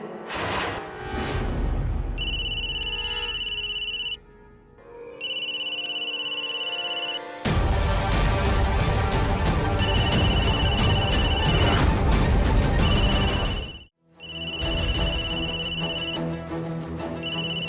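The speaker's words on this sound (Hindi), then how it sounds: "आपका फोन बज रहा है" A telephone rings loudly in repeated electronic bursts with short pauses between, over a busy musical backdrop; no one speaks.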